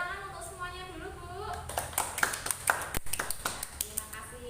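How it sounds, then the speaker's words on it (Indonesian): Participants in a group training session clapping hands after a discussion, a short patter of distinct claps following someone speaking, moderately near. "Tepuk tangan untuk semuanya dulu Bu"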